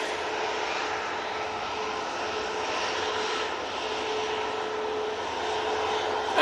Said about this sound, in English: Tui coming on. 737-800, off to Palma de Mallorca.